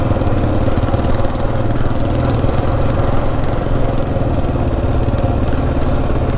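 A Kawasaki KLR 650 motorcycle engine drones loud and steady off road, its throttle held at a constant rumble with no clear revving swells and no voices.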